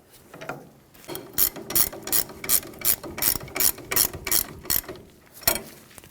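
A ratchet tightens the ball joint nut on a Toyota Tacoma, giving a close series of about a dozen crisp, evenly spaced clicking strokes in a steady rhythm.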